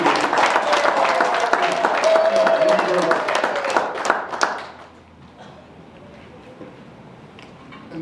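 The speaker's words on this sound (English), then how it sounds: "let's give him a particular round of applause for being here" An audience at an awards ceremony in Zimbabwe applauds steadily for several seconds, a dense crowd of clapping that abruptly fades into near quiet.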